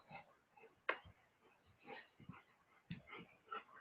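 A dog whimpers and yips near the listener indoors, with short high cries broken by pauses and soft low sounds between them.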